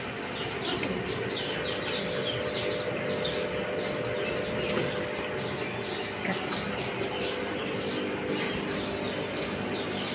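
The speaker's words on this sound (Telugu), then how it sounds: "Love birds పెట్టారమ్మా. Love birds." Lovebirds in a pet shop chirp and tweet in a busy, overlapping chatter, faint and continuous, with other caged birds cooing softly in the background.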